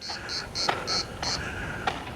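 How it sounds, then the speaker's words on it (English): Cicada in Cyprus gives a series of short, high buzzing chirps in an even rhythm, fairly near, over an outdoor background with faint clicks. "There's a hopeful cicada."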